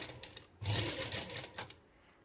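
Sewing machine stitching the neckline of a suit: short bursts of rapid mechanical needle chatter, a brief run, a pause, then a longer steady run, close and clear.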